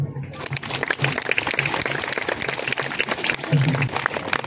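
A crowd claps at a Catholic laity jubilee in Gikongoro diocese, Rwanda: dense, steady applause that fills the whole stretch, with voices mixed in underneath.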